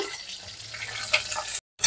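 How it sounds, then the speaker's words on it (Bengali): Onions sizzle steadily in oil close by with a few light clinks of stirring, then the sizzle cuts out briefly before resuming. "এখন আমি বড় বড় করে কাটতে রাখা পেঁয়াজগুলো একটু তেলের মধ্যে ভাজে নেব"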